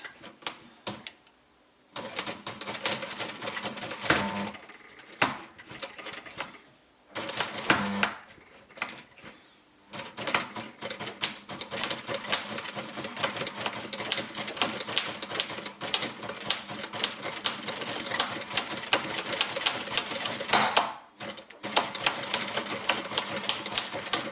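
A sewing machine stitches a bikepacking handlebar harness strap in long runs of rapid mechanical clatter, going back and forth over one section, with short pauses between bursts; close and loud, with no talking.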